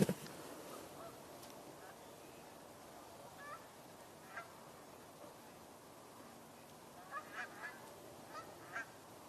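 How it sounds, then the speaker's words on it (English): Tundra swans call from a distance on a November nature tour, faint scattered honking and whooping notes over steady outdoor background noise, a few grouped near the end. "I hear tundra swans."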